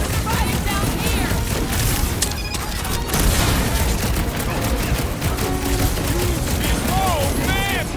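Turret gunfire during a frenzied space battle in Guardians of the Galaxy, a constant dense barrage of loud blasts and crackling impacts with whining laser-like sweeps throughout.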